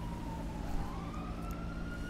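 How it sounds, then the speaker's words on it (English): A police car siren in GTA 5 wails steadily in the distance, a rising tone sustained throughout over a low rumble of game ambience. "Oh, there is a police car that's after someone."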